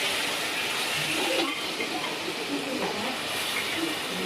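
Tomato gravy sizzling in hot oil for a paneer curry, a steady hiss with faint bubbling, moderately quiet and continuous, with some background noise.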